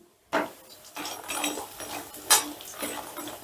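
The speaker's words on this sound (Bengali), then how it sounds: "এবার বড়িগুলোকে বেশ লাল লাল করে আমি ভেজে নিচ্ছি" Lentil dumplings (bori made from biulir dal) fry in hot mustard oil in a wok, giving a sudden sizzling hiss with scattered crackles and a few clinks of a utensil, close by and moderately loud.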